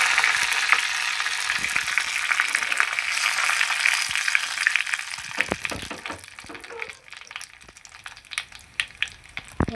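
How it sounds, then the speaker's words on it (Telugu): Dried red chillies, lentils and curry leaves crackle and sizzle in hot oil as a tempering for tomato mint chutney, a dense close frying hiss with a few pops and stirring knocks toward the end. "4 ఎండుమిరపకాయలు, పప్పు దినుసులు, కరివేపాకు"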